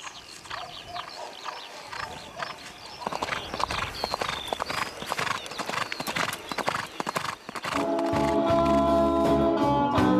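Horse hooves clip-clop steadily as someone rides at a walk, up close and loud, with an occasional whinny, until music swells in over the last couple of seconds.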